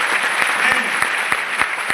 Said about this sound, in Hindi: बोल तो नहीं बोलो, ताली बजा के दिखाओ यार